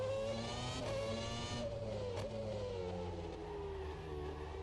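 Race car engine in the rFactor 2 racing sim, a loud steady drone with harmonic whine that dips and climbs again as it shifts up, continuous and close throughout.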